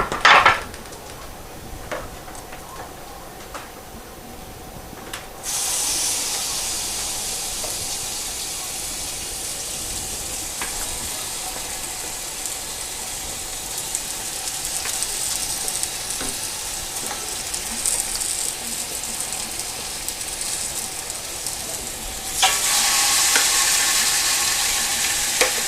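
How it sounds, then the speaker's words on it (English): Rabbit pieces drop into a hot pot for Jamaican curry rabbit and sizzle loudly and steadily, with a brief clatter at the start and surges of frying as more pieces go in, no talking. "I'm going to grab this rabbit and get it added to the pot, piece by piece."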